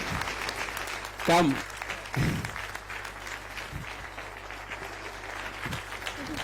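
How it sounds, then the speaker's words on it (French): An audience welcoming a guest on stage keeps up a steady bed of applause and cheering while voices speak briefly over it, with a louder burst of crowd noise near the start. "nous allons le recevoir sous vos ovations et vos acclamations"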